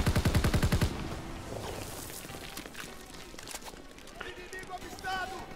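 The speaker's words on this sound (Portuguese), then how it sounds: "Passou um tiro perto de mim de novo." Rapid bursts of gunfire crack close by at the start in Call of Duty: WWII on PS4, then scattered shots and game sound effects continue underneath a busy, noisy mix.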